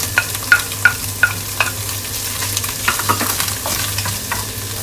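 Leeks stir-fried in a hot pan with garlic for Japanese chahan fried rice, a steady sizzle under repeated scraping and tapping of a utensil against the pan, close and fairly loud, with no talking.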